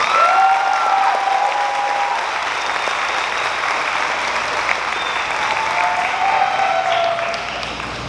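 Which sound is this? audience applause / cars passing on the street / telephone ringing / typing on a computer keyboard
audience applause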